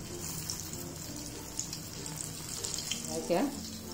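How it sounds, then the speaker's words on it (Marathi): Soft, low sizzle of a beetroot cutlet frying in oil on a griddle, fairly quiet and steady, with a brief louder spurt near the end. "आता हे आपण तेलामध्ये सोडू"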